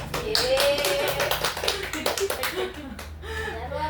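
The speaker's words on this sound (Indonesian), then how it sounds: "tepuk tangan yang luar biasa buat Bu Husna yang sudah menyampaikan hasil" Audience clapping at a teachers' good-practice sharing session, a fairly loud burst of claps with some taps and a brief vocal tone running through, fading somewhat toward the end.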